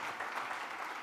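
Church congregation applauding the children's ministry volunteers, a dense, steady wash of clapping from a crowd at moderate distance, with no voices over it.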